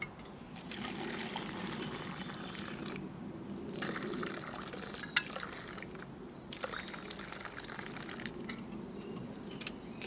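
Hot water pouring from a Kelly kettle, a steady close trickle and splash of liquid running for several seconds with brief pauses and small knocks of the metal vessel.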